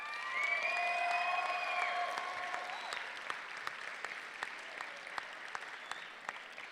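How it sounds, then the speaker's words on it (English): A crowd at the 2022 Olympic High School commencement ceremony gives sustained applause for the graduating students, with a few whistles at the start, and the clapping gradually thins out. "Can we give them a big round of applause?"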